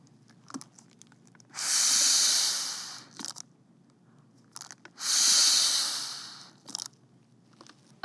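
Two rescue breaths are blown through a seal during a CPR demonstration, each a long, breathy hiss of about a second and a half, separated by a pause with soft clicks and handling noises.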